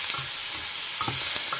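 Tomatoes sautéing in a pan make a soft, even sizzle, with a few quiet spatula scrapes over the short stretch.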